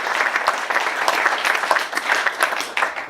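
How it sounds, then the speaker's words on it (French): At a professional event, an audience claps in a lively, uneven burst of many individual hand claps that continues throughout at a fairly close, moderate volume. "encore une fois on peut les applaudir, je pense"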